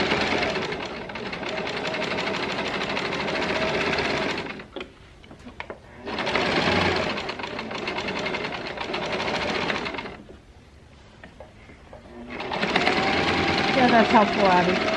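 A sewing machine stitching a skirt seam in a sewing class, running in three long whirring bursts separated by pauses in which people talk quietly.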